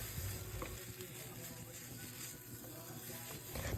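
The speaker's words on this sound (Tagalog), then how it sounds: "Pag medyo half cook na yung mga gulay, ilagay na natin yung noodles. Haluin natin ng mabuti." Vegetables with pechay and instant mi goreng noodles being stirred in a frying pan, a steady close sizzle with soft scraping and tossing throughout, no voices.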